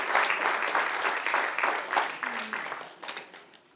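A church congregation at a Bible class applauds the Lord, with rhythmic waves of clapping that build and pulse before thinning out and trailing off near the end.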